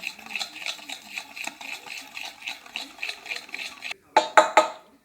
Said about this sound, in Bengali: আমি ভালো করে চিনির সাথে দুধটাকে ভালো করে মিশে নেব আর সবসময় বন্ধুরা এইভাবে একদিকেই ঘুরাবেন